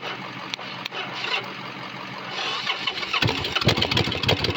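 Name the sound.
motorcycle engine starting after new pump installed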